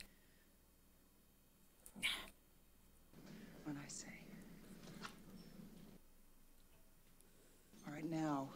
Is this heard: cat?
yes